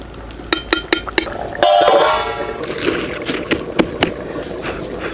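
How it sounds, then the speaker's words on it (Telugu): A pot lid clinks and metal scrapes as green chilli chicken pulao is stirred after cooking on high flame; several sharp clanks come first, then a burst of steam hiss and louder clattering stirring close by. "ఇప్పుడు ఒక్కసారి మూత తీసి కలుపుదాం."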